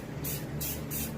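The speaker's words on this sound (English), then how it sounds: "I was supposed to spray the entire fish," Aerosol spray can hissing silver metallic paint onto a striper fish mount in three short, loud bursts separated by brief pauses, with a low background hum.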